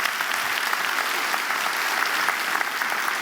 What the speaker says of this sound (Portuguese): Jesus merece um aplauso, né, pessoal?